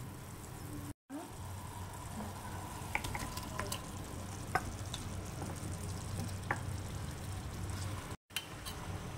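Fried paneer pieces being stirred into cooked masala in a pan, giving a soft, steady sizzle with scattered light scrapes and taps, fairly quiet, with two brief dropouts.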